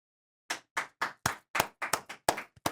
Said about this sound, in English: it seems weird for me to be clapping for every guest